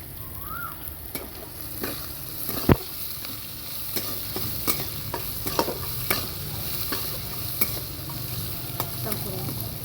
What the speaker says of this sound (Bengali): এরপর আমি পেঁয়াজগুলো দেবো।